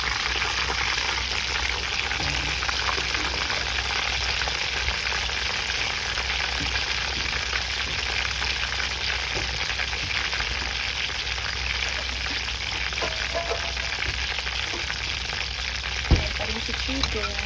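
Chicken wings fry in butter in a pan with a dense, steady, loud sizzle that continues unbroken throughout, plus a single faint knock near the end.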